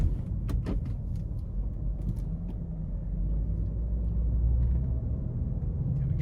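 BMW X5 xDrive35i, a 2017 model with an 8-speed automatic, accelerating hard onto an interstate, with a steady low engine and road rumble filling the cabin and a few brief clicks early on.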